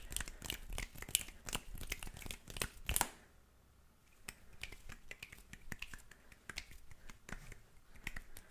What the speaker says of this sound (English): Do some more finger snaps.